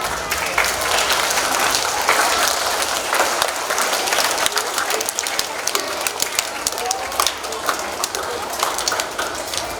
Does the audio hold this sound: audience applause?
yes